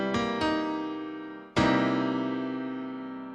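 Jazz chord with a sharp 9 played on a keyboard, struck twice in quick succession and then once more, each hit ringing out alone and slowly decaying.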